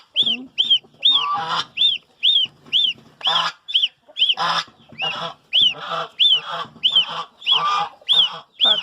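Goslings and geese honk repeatedly in a quick, regular series of loud, nasal calls, close by, with a few overlapping squawks.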